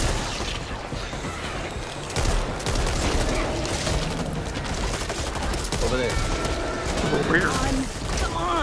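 Gunfire aimed at a ripper creature in the co-op shooter Back 4 Blood, a dense run of rapid shots and mechanical clatter beneath near-constant talk from players.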